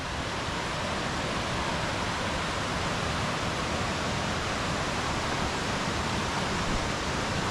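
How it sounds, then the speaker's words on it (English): A mountain creek rushes over small cascades, a loud, dense, continuous roar of water that is close by and steady, with no voices. "Got this nice creek, some cascades"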